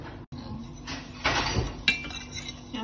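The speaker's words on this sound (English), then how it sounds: "so I'm stirring it so that it doesn't burn" Sesame seeds toasting dry in a pan on low heat, stirred with a utensil that scrapes and clinks against the metal, close and clear, with a brief rattle of seeds.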